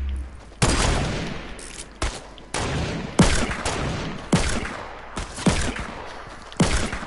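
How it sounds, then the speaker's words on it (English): Sniper shots ring out in an online shooter game, about seven sharp, loud cracks spaced roughly a second apart, each trailing into a rumbling echo with no voices. "We're being sniped from the mountain we were just on"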